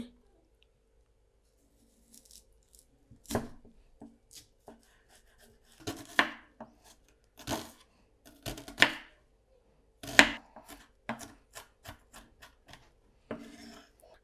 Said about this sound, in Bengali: এখানে একটা পেঁয়াজ নিয়ে নিয়েছি আর পেঁয়াজটাকে কেটে নেব প্রথমে